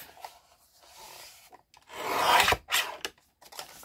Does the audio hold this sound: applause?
no